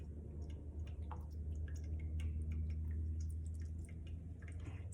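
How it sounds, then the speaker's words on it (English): Whey drips from fresh cheese curds into a bowl. The drops fall as faint, irregular ticks over a steady low hum, and no one speaks. "I can hear all that whey just dripping down in there"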